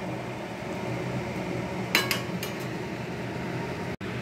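A lid set onto a cooking pot of fish-head curry with spinach and vegetables, a brief metallic clink and clatter rising over a steady kitchen hum, followed by a couple of fainter taps.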